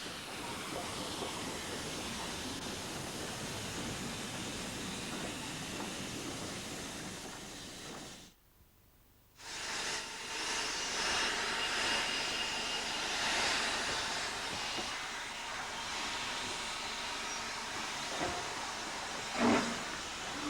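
A 9F steam locomotive on a 10 1/4 inch gauge miniature railway moves toward a shed, giving a steady broadband hiss of steam and running noise throughout. One brief lull comes partway through, with a faint clank near the end.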